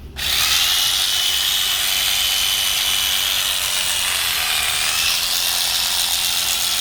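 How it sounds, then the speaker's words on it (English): Steady electric sheep-shearing clipper buzz runs continuously at close range while shearing ewes, a high whirring hum with a constant mechanical drone and no voices. "you'll hear the clipper kind of made a noise when I went into there"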